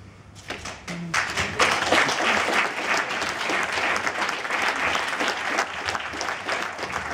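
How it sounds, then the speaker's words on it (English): A live audience in Birmingham at a Q&A with Immortal Technique bursts into loud applause after a brief quiet start, dense, steady clapping and some crowd noise continuing to the end. "Please give yourselves a round of applause."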